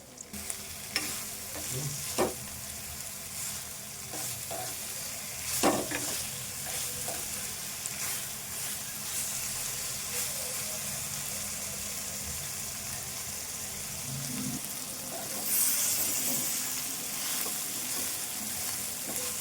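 Prawns fry in hot oil for a prawn curry, a continuous sizzle broken by stirring scrapes and clinks of a spoon against the pan, close and steady with no talk.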